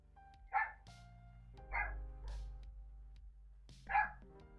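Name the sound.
dog named Mango barking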